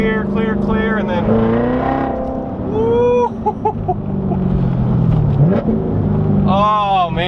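A Corvette Z06 engine drops a gear and revs loudly, its tone rising and falling in sweeping pulls, with someone speaking over part of it.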